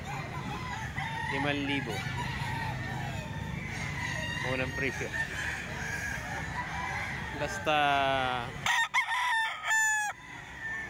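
Roosters offered for sale at a gamefowl farm, including a banded early-crowing bird, crow repeatedly at moderate distance, several calls rising over steady background noise while someone talks throughout.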